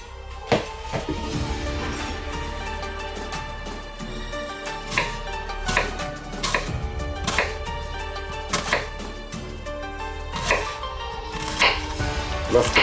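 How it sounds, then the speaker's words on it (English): A knife chops an onion into semicircles on a board for a homemade Turkish doner, with irregular sharp taps over a steady musical background. "now we need to chop the onion into semicircles"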